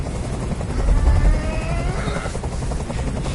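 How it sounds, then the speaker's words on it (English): Helicopter in a PS4 video game, a steady loud whirring rotor chop filling the whole stretch, close and continuous with no voices over it. "I can't stand that noise anymore! Tell that helicopter to get out of here!"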